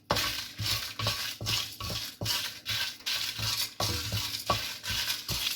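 Sesame seeds and dried curry leaves dry-roasting in a pan for puliyotharai, with a spoon scraping and stirring in steady repeated strokes, each pass a soft rasp over a faint sizzle, close and fairly quiet.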